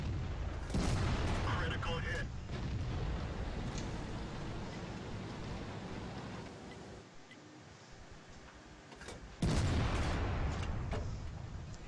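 Tank cannon fire in the video game World of Tanks: two loud, booming blasts, one early and one near the end, each followed by a rumbling decay over continuous low battle ambience, with commentary voice present.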